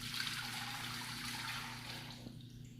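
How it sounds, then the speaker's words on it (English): Very warm water pours from a faucet into a container for whole wheat bread dough, a quiet continuous trickling stream that thins out near the end against a low kitchen hum. "we're going to start with 3 3/4 cups of very warm water"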